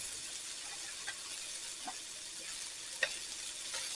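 Brown rice goes into a frying pan with bacon and peas, bringing a steady soft sizzle and hiss with faint scraping and stirring ticks and one small sharp clink. Quiet and continuous, with no talk.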